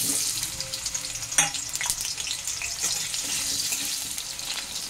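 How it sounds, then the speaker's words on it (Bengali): Potatoes frying in hot oil in a pan, a steady close broadband sizzle with a few louder stirring clatters, no voices. "এই তেলের মধ্যে আমি এই আলুটা দিয়ে আলুটাকে লাল করে ভেজে নিচ্ছি।"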